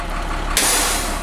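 A truck's parking brake is applied with a sudden loud hiss of released air from the air brake system, breaking in over a steady idle and carrying on to the end.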